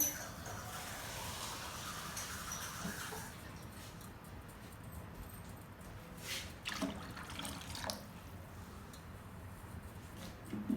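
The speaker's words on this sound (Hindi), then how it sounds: "अब हमने 2 गिलास और पानी के डाल लेने हैं।" Water poured from a glass into a cooking pot of karhi, a steady close splashing stream with brief gurgles and a few clinks, under a noisy kitchen background.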